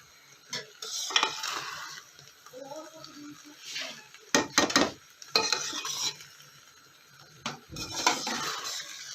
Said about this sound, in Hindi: ये देखें दम से अब इसको मिक्स कर लेंगे।